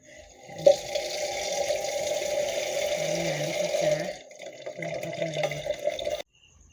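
Kitchen tap running in a steady close stream while red ant eggs are rinsed of flour, water splashing in a bowl or sink, with a short break midway and someone speaking briefly.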